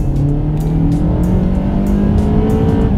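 A used crossover's engine drones loudly and steadily, its pitch climbing as the car accelerates at full throttle, heard close from inside the cabin with no talking.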